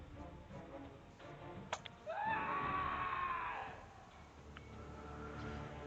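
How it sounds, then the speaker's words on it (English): A single scream rings out during an attack in the video game Pathfinder: Kingmaker, a rising, sustained cry lasting over a second, heard at moderate distance over a quiet background with a few faint clanks. "So there's screaming going on."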